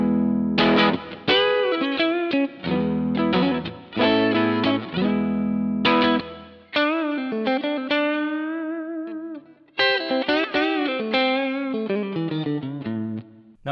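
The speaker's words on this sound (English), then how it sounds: "Now you can control the amount of distortion very nicely with a pick." An electric guitar runs through a Tonefreak Naked OD overdrive pedal, playing loud, gritty picked chords and single-note lines with sustained overdriven tone and short pauses, with no talking.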